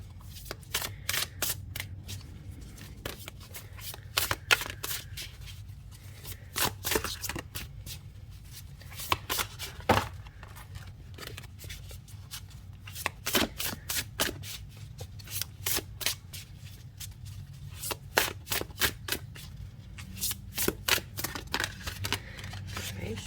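Tarot cards are shuffled and scooped up by hand in a quiet room, giving a steady run of crisp riffling snaps and soft slaps at close range, with no talking.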